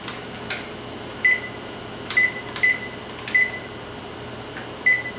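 Oven control panel beeps several times, sharp and clear, while the baking temperature is raised to 350, short single beeps spaced unevenly over a quiet kitchen background with no talking.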